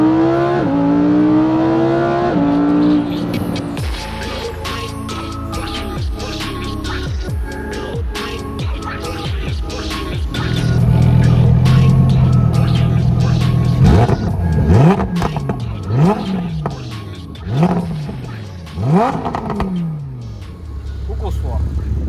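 A Lamborghini Huracán EVO engine revs hard from close by, climbing through repeated rising sweeps broken by quick gear-change dips, with a person talking over it.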